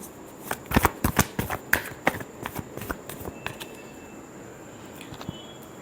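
Tarot cards being shuffled by hand, a run of crisp riffling flutters and sharp slaps that come close and loud early on, then thin out into lighter, softer card rustles toward the end.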